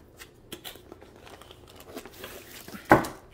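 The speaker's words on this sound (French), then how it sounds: "Alors, je vais ouvrir la boîte." A Diamond Art Club diamond painting box being opened, with soft crinkling and rustling of packaging throughout and one sharper, louder crunch near the end, close by.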